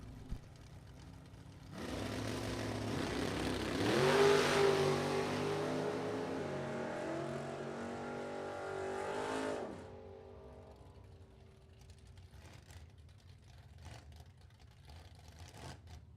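A 1980 Camaro Z28 launches down a drag strip with a loud engine roar that climbs in pitch through the gears, then fades away after several seconds, leaving quiet track ambience.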